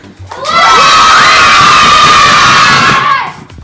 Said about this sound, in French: Le côté droit, faites du bruit.